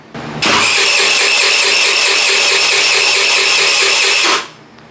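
An abandoned scooter bought at a thrift store fires up after being revived with fuel, its small engine catching into a loud, steady buzzing idle for about four seconds before cutting out.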